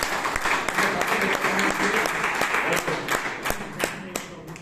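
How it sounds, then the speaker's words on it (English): An audience at a Toastmasters club meeting in Bangalore breaks into a round of applause, dense clapping from a roomful of people close by, with a few louder individual claps and faint voices as it tapers off. "So give him a round of applause."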